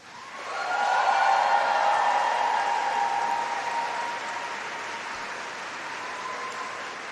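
Graduates at a university winter congregation ceremony cheer and applaud their supporters, producing a sustained wash of crowd clapping and cheering that swells quickly, holds, and then slowly fades.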